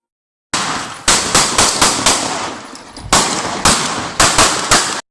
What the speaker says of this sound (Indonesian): ini bukti bahwa yang mereka gunakan adalah peluru tajam